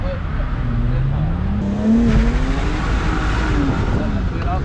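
BMW E46 engine revving hard during a drift, pitch climbing and falling as the throttle is worked, with tyre noise underneath and an instructor talking over it.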